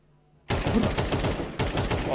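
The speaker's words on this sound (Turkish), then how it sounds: "Adam kapıdan vuruyor beni." Rapid automatic gunfire in Counter-Strike 2, a loud sustained burst of shots that cuts in abruptly after near silence, with a brief break partway through.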